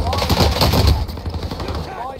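Rapid close bursts of automatic gunfire crackle on Rebirth Island in Warzone, dense at first and then thinning into scattered shots, while a player talks over them.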